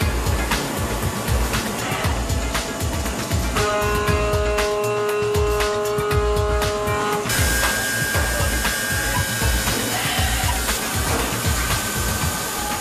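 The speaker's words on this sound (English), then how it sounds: "They're going to be drilled so that the locking mechanism can be fitted. It's done by machine to make sure that the holes are exactly the right size." Loud, steady industrial machine noise from a drilling machine boring holes in padlock bodies, with a continuous mechanical whir, rapid ticking impacts and a tonal whine that comes in midway and then shifts.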